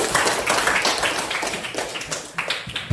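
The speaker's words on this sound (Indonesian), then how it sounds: "Tepuk tangan buat Nabil." Indoor classroom clapping for a student, uneven and loose hand claps from a small group, close by and lively, with a few sharper claps near the end.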